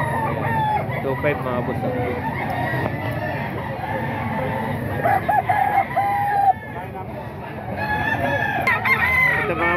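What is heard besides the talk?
roosters at a gamecock market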